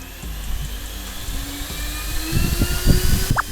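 A cordless Osuka leaf blower on turbo setting whines at high pitch, running steadily and loudly, with a low rumbling flutter building toward the end.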